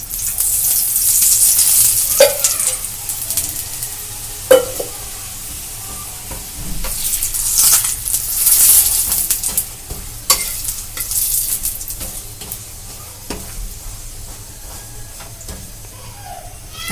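Tomato paratha sizzles in oil on a hot pan, a loud close hiss that swells and fades as it is pressed and turned, with occasional sharp clicks of a utensil.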